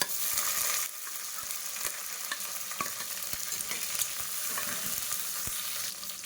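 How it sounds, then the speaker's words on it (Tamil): Crushed shallots, ginger, garlic and green chillies sauté in hot oil in a pan, with a soft continuous sizzle and occasional stirring scrapes and clinks, close by and fairly quiet, with no talk. "லேசாக வதக்குனா போதும்."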